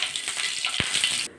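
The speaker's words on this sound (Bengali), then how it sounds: "নাড়াচাড়া করে কিন্তু জিরেটা ভাজা করে নিয়েছি।" Whole cumin seeds fry in oil in a pan for a Bengali begun bilasi dish, giving a bright, steady crackling sizzle with one dull knock partway through before it cuts off.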